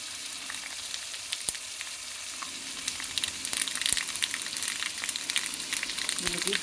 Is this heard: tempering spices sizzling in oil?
yes